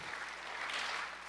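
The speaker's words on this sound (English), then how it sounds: "Please give yourselves a big round of applause just for being here today." An audience at a student film festival awards screening gives steady, even applause, many hands clapping together in a continuous wash that fills the room.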